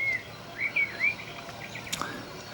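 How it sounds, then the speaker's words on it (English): A bird sings beside the Leeds and Liverpool Canal at Halsall in May, giving a few short, clear whistled phrases that stand out above a faint outdoor background, followed by a brief sharp knock. "You can hear some lovely bird songing"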